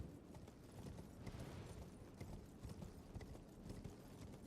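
A horse gallops in Elden Ring with the Reforged mod, its quick, even hoofbeats drumming continuously at a low, muffled level under a busy game soundscape.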